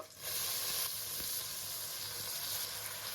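Washed rice drops into a pan of frying onions and curry leaves, setting off a loud, steady hissing sizzle that holds close and even for a few seconds.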